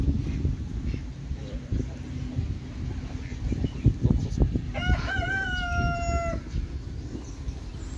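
A Brahma rooster crows once, loud and drawn out midway through, while hens cluck around it over a low, rumbling farmyard background with faint voices.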